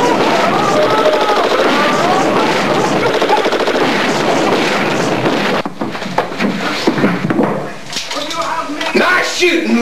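Film gunfire fills the scene, with rapid, loud bursts of shooting that run continuously for several seconds. Voices talk over the shots, and after a brief break there are more scattered bangs.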